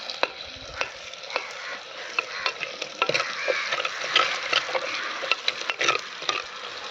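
Onions sautéing in a pan until golden brown, a steady broad sizzle with a scatter of sharp clicks and scrapes from stirring, close and moderately loud, no voices.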